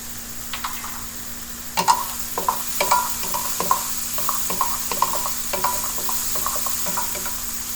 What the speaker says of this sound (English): Keep sauteing. I'm adding a little salt for the vegetables.